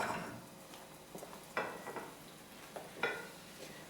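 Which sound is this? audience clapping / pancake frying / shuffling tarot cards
pancake frying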